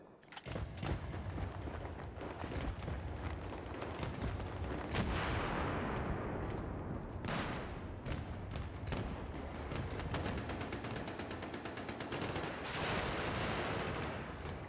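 An M249 machine gun in Battlefield 3 fires in long, near-continuous bursts, loud and dense, with sharp rapid reports and occasional heavy thuds running through the whole stretch without talk.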